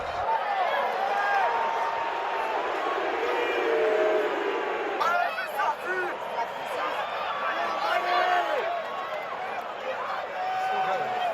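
Argentinian fans roaring in the stadium in Marseille at a Rugby World Cup match against England, a broad steady crowd din with a voice talking over it.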